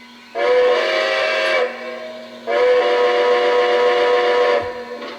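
Two long blasts of a Lionel model train's steam whistle, loud and steady, each sounding for over a second with a short pause between, over a faint constant hum.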